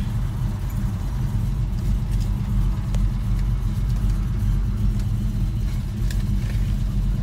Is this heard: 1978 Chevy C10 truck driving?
yes